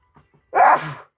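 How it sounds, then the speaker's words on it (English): A single explosive sneeze, loud and close, preceded by two faint quick inhales. "And I'm going to sneeze."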